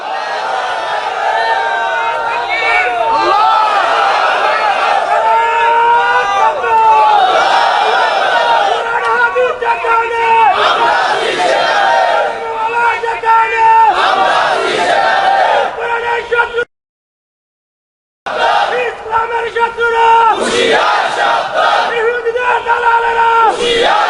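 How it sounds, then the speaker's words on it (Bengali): A large crowd at a Bangla religious sermon gathering shouting takbir in unison, repeated loud chanted calls in waves with brief gaps and a short silence partway through. "একটু হাত উঁচু করে একটু তাকবীর দেন"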